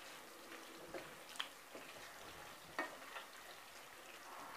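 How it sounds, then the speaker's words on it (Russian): Zirvak for Uzbek plov is stirred in a frying pan, a soft steady sizzle of hot fat with faint scraping and a couple of small clicks from the utensil, close by with no talk. "Перемешиваю."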